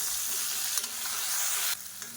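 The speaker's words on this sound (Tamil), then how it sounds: "இப்போ பாருங்கள், தக்காளி வெங்காயம் நல்லா வதங்கிடுச்சு." Whole small onions and a medium tomato sauté in a pan with a loud, steady close-up sizzle, interrupted by a couple of stirring scrapes before the hiss eases slightly.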